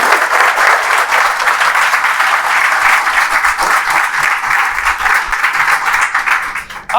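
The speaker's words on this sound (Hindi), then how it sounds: "तो एक बार तो मां के लिए ताली तुमको बजानी चाहिए" A classroom audience at an English-speaking lecture breaks into sustained, loud applause that continues steadily for several seconds, with many hands clapping together close by.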